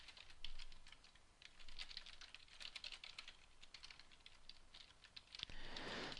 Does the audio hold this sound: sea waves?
no